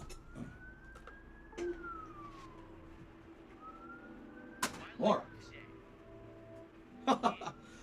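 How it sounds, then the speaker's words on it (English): A police siren wails faintly in the distance, its pitch sliding up and down, while pigeons coo and a few sharp knocks sound closer by. "police siren outside. Pretty loud."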